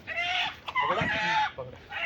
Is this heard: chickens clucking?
yes